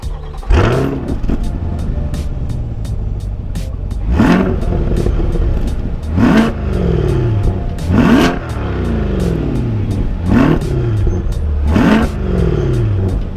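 A 2023 Corvette Stingray's 6.2-litre V8 with quad-tip exhaust revs hard about half a dozen times, each throaty surge rising then falling back to a burbling idle, close and loud.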